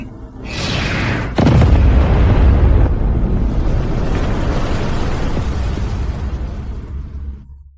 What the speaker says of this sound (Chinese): 主炮即刻开火！